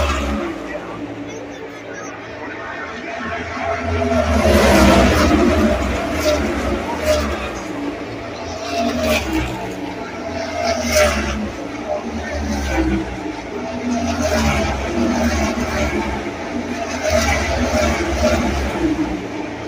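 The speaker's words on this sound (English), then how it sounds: "watching like cars that sound like lawnmowers go around the track" NASCAR Cup Series race cars roar around Pocono Raceway, their engines swelling and fading as they pass at a distance, recorded from the stands amid crowd babble and nearby voices.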